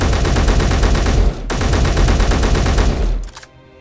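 Semi-automatic standard rifle fire in Space Engineers, loud, fast shots running almost continuously with a short break near the middle, then ringing out into a fading tail.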